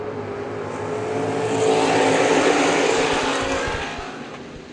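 Race cars roaring off at the start of a race, a broad wall of engine noise swelling to a peak and fading as the pack passes, loud and with no talk.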